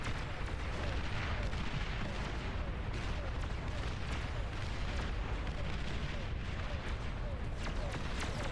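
D guns firing in a video game, a dense, continuous roar of heavy booming gunfire and explosions at steady loudness throughout.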